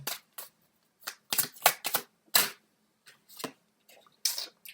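Tarot cards shuffled by hand in quick irregular bursts of crisp riffling and slapping, close and alone, separated by brief silences.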